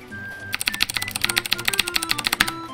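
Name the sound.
typing on Quickfire TK mechanical keyboard, Cherry blue switches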